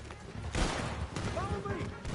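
Bursts of video game gunfire crackle through a dense battle mix, with shouting voices over the shots.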